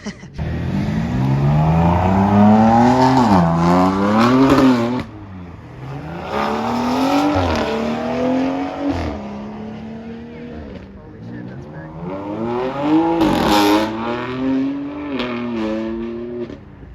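A C8 Corvette engine revs hard and climbs through quick gear shifts, rising and dropping pitch repeatedly, loud and close, with people talking over it.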